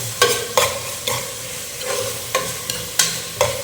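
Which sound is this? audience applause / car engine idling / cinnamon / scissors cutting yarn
cinnamon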